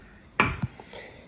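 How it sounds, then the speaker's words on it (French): Serger threads on a Baby Lock Ovation being cut, giving a single crisp snip followed by a couple of faint small clicks, close and quiet against a near-silent room. "on va couper les fils"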